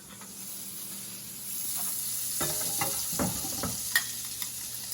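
An egg sizzles in a frying pan, a steady close crackling hiss with a few scraping stirs and clinks of a utensil, and no talking.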